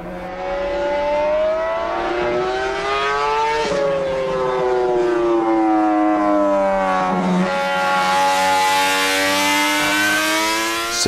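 A Honda six-cylinder 250cc racing motorcycle at Monza screams at high revs. Its shrill, siren-like engine note climbs and falls through the gears, loud and close, with no voices over it.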